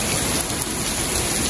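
Heavy rain pours down in a sudden downpour after sunshine, a dense, steady hiss of drops drumming on surfaces close by, loud and unbroken with no talk over it.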